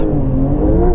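A muscle car engine revs hard and steadily at a drag strip while its wheels spin, a continuous loud, close drone with a rising harmonic whine and no pause.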